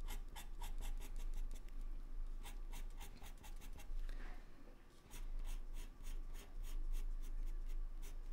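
Coloured pencils scratching on paper while drawing a kitten, in rapid rhythmic strokes of soft, close hatching that pause briefly before resuming.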